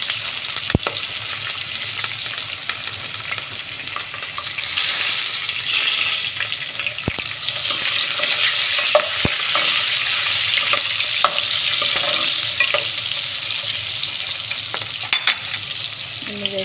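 Chana dal, cumin, green chillies and onions fry in oil for sambar, a long steady sizzle with crackles and occasional sharp spoon clicks against the pan, close and unbroken.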